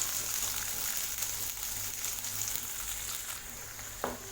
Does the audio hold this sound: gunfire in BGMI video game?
no